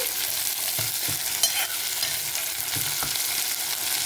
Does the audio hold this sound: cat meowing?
no